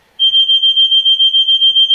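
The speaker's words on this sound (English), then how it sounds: "that fire alarm is probably going to go on and off" A smoke-type fire alarm shrieks with a loud, piercing high tone, pulsing rapidly and continuously after a sudden start, close and alone.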